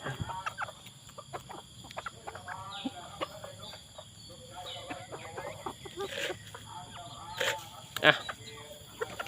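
Several tame bantam chickens cluck and murmur softly in short bursts, with scattered sharper squawks against a quiet farmyard background.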